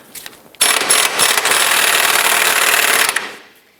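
Rattling power tool loosening 18mm bolts on a 2008-2013 Nissan Rogue subframe cradle, a loud close mechanical buzz lasting about two and a half seconds before cutting off, with no talking.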